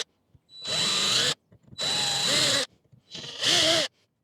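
Three bursts of power drilling, each roughly a second long with short pauses between, as holes are bored through the lip of a van's water tank; close and loud, with no talking.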